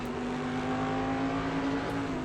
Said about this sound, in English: I do like the sound of these Daytona prototypes, I must say. It's a nice roaring engine they got.